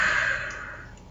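Pouring Hop City Barking Squirrel amber lager just after opening, the beer foaming up: a steady, close hiss of fizz and liquid that slowly fades over about a second, with no talking.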